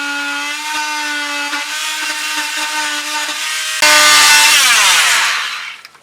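A power saw makes a shallow 7/32-inch scarf cut in a boat hull. It runs at a steady tonal whine, then bites in louder and rougher for about two seconds before spinning down and stopping.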